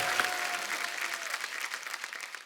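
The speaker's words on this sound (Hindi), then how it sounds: "इनके लिए जोरदार तालियां हो जाए" Studio audience of a Hindi comedy show claps steadily, a fairly faint, continuous patter of many hands that holds level and tapers slightly toward the end.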